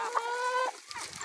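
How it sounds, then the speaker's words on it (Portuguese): A laying hen gives a short, close cackle, a single drawn-out tonal cluck followed by soft scratchy noise. "Galinha poedeira bonita."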